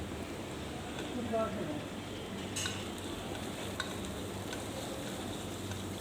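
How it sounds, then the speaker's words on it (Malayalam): Onions with salt being stirred and sautéed in a pan, a soft steady sizzle with scraping stir strokes running throughout at moderate, close level. "സവാളയൊന്ന് പെട്ടെന്ന് വരണ്ട കിട്ടാൻ വേണ്ടി നമ്മൾ ഇച്ചിരി ഉപ്പ് ചേർക്കുന്നുണ്ട് ഇതിനകത്ത് ഉപ്പ് ചേർത്ത് ഇളക്കി വരട്ടിയെടുക്കുക"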